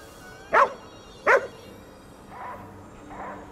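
A dog in the video game Ghostwire Tokyo gives two sharp, close barks about a second apart, followed by a couple of softer, fainter yips or whimpers, with no talk over them.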